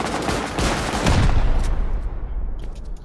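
Gunfire aimed at a turret during an online raid defense in a video game: a dense, loud burst of rapid shots that rolls on, then fades into a decaying echo with a few faint trailing pops.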